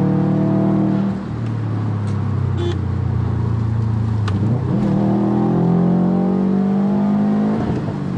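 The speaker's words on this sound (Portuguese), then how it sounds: "Barulho do intake," Subaru WRX STI stage 2 tuned to about 300 awhp pulling hard from inside the cabin, a loud, continuous intake roar and engine drone rising in pitch through the revs with a brief dip, no talk over it.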